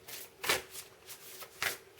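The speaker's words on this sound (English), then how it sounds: "And we'll just shuffle these cards and put some out" A deck of Shaman's Dream oracle cards being shuffled, with crisp riffling bursts of paper flicking that repeat in an uneven rhythm, heard up close with no talking.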